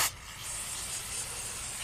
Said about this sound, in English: spray the whole thing down, get it good and clean.